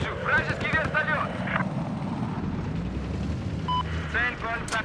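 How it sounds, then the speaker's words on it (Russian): An enemy helicopter in the video game Battlefield 4 drones steadily under continuous radio chatter and in-game callouts, with rotor noise blended into a busy battlefield mix. "На нашей позиции вертолет противника."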